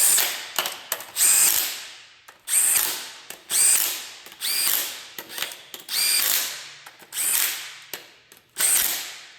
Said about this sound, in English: Make sure you torque your caps to spec.